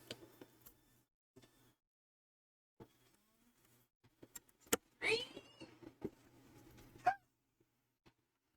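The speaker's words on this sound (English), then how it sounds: "Sassy's killing cats in the background" A cat meows twice in the background, short and fairly faint, in an otherwise quiet room with scattered light ticks and clicks.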